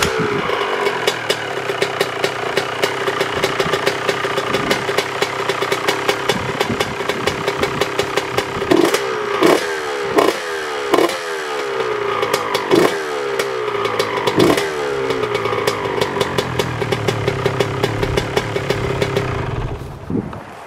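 A Honda CR125 two-stroke motorcycle engine idles unevenly after a long period unused, a loud buzzing putter with rapid regular firing pulses, occasional blips of revving, then the note sags and fades near the end.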